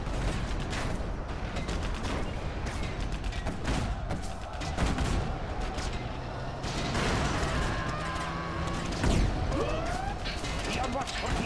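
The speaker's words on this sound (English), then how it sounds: "Quad cannon, begin stitching." Quad cannon units firing in the Command & Conquer Generals video game, with bursts of rapid gunfire and crashing impacts running steadily through a busy battle mix of explosions and mechanical noise.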